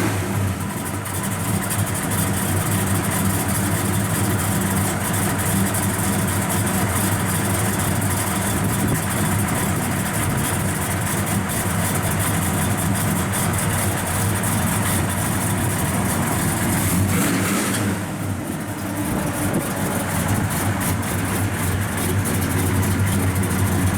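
A 1965 Chevrolet El Camino resto-mod idles with a deep, steady, pounding rumble, loud and close, holding an even lope with a brief dip in the middle.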